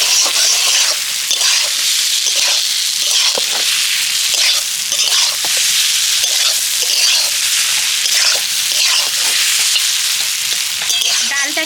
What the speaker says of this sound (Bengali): এবার আমি ডালটাকে ভালো করে মশলার সাথে নেড়ে চেড়ে কষিয়ে